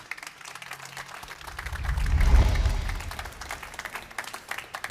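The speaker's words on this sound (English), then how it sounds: "He will need an extra applause to come to the stage." Audience at a hybrid BMW Group sustainability event applauding as a CEO guest walks on stage, clapping swelling to a peak midway and then fading back, with a faint low rumble beneath it.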